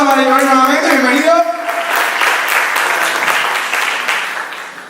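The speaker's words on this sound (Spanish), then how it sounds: "un aplauso para Joel nuevamente" An audience claps in a steady wash of applause that swells and then fades, following someone speaking Spanish at the start.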